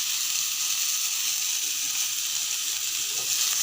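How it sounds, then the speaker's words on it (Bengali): Food frying in a pan with Maggi masala, a steady, even sizzle hissing throughout at close range with no talk over it. "এবার একটুখানি ফ্রাই করে নেব।"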